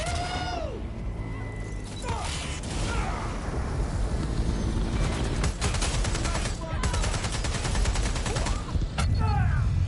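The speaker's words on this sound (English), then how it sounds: "Shots fired!" Sustained gunfire in the video game Watch Dogs: Legion, with bursts of automatic shots and single cracks layered over a dense din of combat, loud and continuous, with brief voice fragments in the mix.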